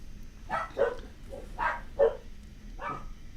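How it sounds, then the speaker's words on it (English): A dog indoors lets out five short, muffled barks and yips at uneven intervals, moderately near and fairly soft. "Hold on, hold for barking."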